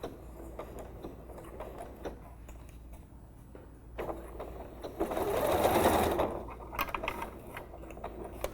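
A sewing machine stitches around the top edge of a bag lining at about a half-centimetre seam allowance, running in short bursts and then in one longer, louder run, with no talk.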